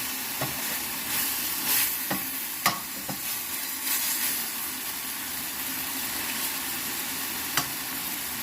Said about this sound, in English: let that bacon get nice and crispy